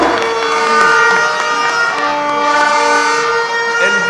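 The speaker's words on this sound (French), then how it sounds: "s'il vous plaît, les klaxons, il faut les garder pour après." Car horns blare and honk continuously from a large crowd at a political commemoration rally in Mali, loud and sustained with overlapping tones and a dense background of cheering voices.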